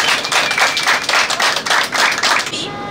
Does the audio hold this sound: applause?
yes